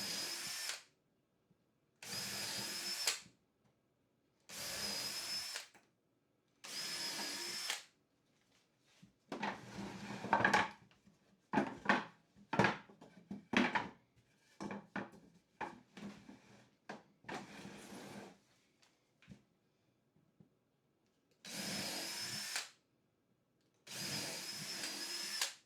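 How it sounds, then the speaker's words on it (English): Power drill with a countersunk bit whirring in repeated short bursts with pauses between, then a stretch of quick stuttering pre-drilling into wooden planks, followed by two more bursts. "With a countersunk drill bit, pre-drill 2 per plank at equal distances from the sides."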